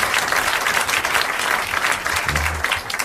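A studio audience at a 1981 French television show breaks into steady applause, dense clapping filling the moment with no voices on top.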